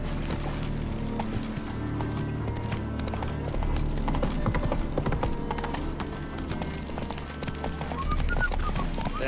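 Steady clip-clop of Geralt's horse Roach trotting in The Witcher 3 video game, rhythmic hoofbeats continuing throughout over a dense game ambience and soft background music.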